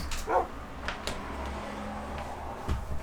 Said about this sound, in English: this dog is barking at the dog that's barking outside.